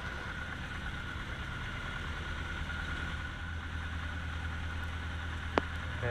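A Piper PA-18 Super Cub sits with its engine running ahead of takeoff, a steady low drone with a faint tonal whine, a brief click near the end.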